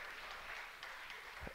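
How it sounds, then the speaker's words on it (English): Faint, distant applause from an audience at a basketball coaches show in a bar and grill continues steadily, a soft wash of clapping with a low thump near the end. "Give him a nice round of applause"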